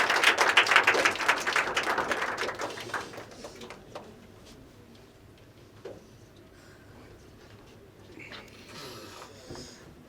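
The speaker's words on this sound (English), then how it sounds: "Can we have a small round of applause for Mr." Seminar audience applauding a felicitation, a dense burst of clapping that starts loud and thins out over a few seconds into a quiet room with scattered taps and faint movement.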